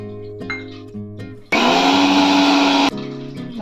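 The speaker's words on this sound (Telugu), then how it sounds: "ఒక మిక్సీ జార్లో మనం వేయించి పెట్టుకున్న నువ్వుల్ని మిక్సీ పట్టుకోవాలండి" A mixer grinder whirs loudly for about a second and a half as it grinds roasted sesame seeds in its jar, starting and stopping abruptly between quieter moments.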